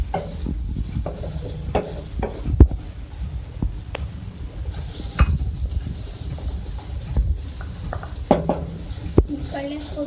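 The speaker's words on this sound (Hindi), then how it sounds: "अब मैं इसमें ऐड करूँगी प्याज।" Chopped onion added to a hot pan of chicken tikka filling and stirred, soft sizzling under scraping and clinking of a spoon against the pan in an irregular rhythm.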